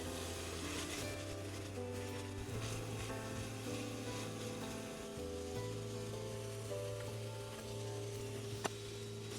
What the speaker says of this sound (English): I'm going and stirring the vegetables. Once you see the onions get translucent,